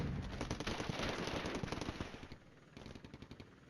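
Rapid, fairly faint bursts of automatic gunfire in the wargame Flashpoint Campaigns Red Storm, a steady rattling stream that thins out toward the end, with no talk.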